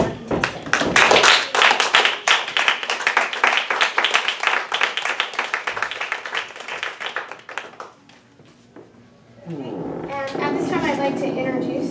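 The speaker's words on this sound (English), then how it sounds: "let's give another round of applause for all our contestants" An audience at a Toastmasters speech contest applauds the contestants: loud, dense clapping for several seconds that tapers and stops, then a person begins speaking.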